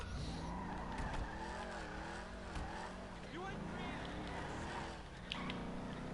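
Racing car sliding in a stunt racing video game, with tire squeal and engine roar running steadily under overlapping voices.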